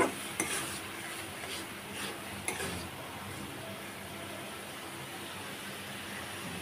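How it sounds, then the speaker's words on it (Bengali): Boiled lentils being stirred and fried in a pan, with a soft continuous sizzle and a few scraping clinks of a spoon against the pan early on, close and fairly quiet. "আমি আবার একটু ডালটাকে কষিয়ে নিচ্ছি।"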